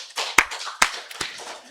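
Sparse hand clapping during a church service, three separate sharp claps spaced evenly apart over a low background murmur.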